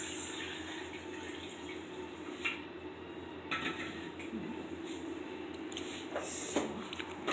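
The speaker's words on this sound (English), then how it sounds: "I'm going to pour in some water" Water poured into a blender jar holding mango, other fruit and cucumbers for a juice, a steady soft trickle and splash heard fairly faint and close with a few light knocks, no one speaking.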